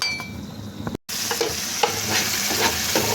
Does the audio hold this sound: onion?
yes